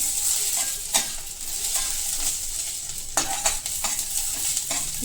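Grated coconut and garlic cloves roasting in a pan give a continuous soft sizzle, broken by occasional scraping stirs of a spoon, close up and with no voices.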